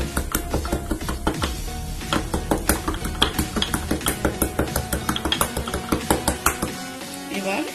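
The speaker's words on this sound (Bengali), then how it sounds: "এবার আমি এই গোলমরিচগুলোকে সামান্য গুঁড়ো করে নেব।" Black peppercorns are crushed by hand for a Bengali pumpkin paratha filling, producing a quick, regular series of sharp knocks and grinding taps close by that carry on for several seconds and then stop.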